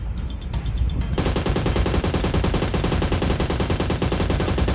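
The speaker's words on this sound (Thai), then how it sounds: "มันยิงกันอยู่" Rapid, relentless automatic gunfire in PUBG Mobile, a few separate shots at first, then a continuous machine-gun stream that keeps going loudly.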